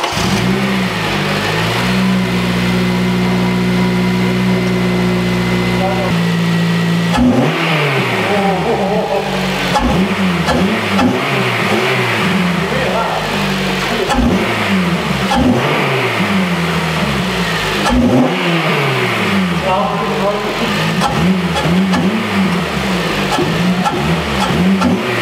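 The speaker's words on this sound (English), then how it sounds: "So we're going to do the first start up now, see what it sounds like" Honda Civic Type R fitted with an HKS intake starts from a low hum, then revs loud and close in repeated sweeping bursts with drops back to idle between them, and no talk over it.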